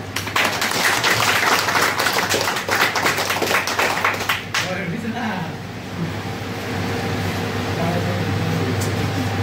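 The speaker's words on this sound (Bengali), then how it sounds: "আমাদের জুলহাস ভাইয়ের জন্য একটা তালি দেই সবাই।" A crowd at a dealer programme event claps in a dense burst of applause for several seconds, fading out into a low room hum with faint murmur.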